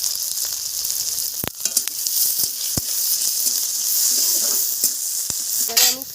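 Dried red chilli, garlic, green chilli and onion frying in hot oil, a loud continuous sizzle broken by several sharp utensil taps and scraping stirs near the end.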